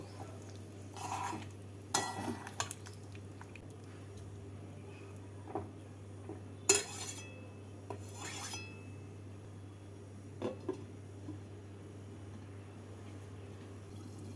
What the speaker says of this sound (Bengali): দুধ দিয়ে নাড়াচাড়া করে গ্যাসটাকে লো ফ্লেমে রেখে পাঁচ মিনিটের জন্য ঢাকা দিয়ে দেব